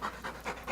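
Dog panting close up, quick rhythmic breaths about four times in under a second, clear and alone with no talk.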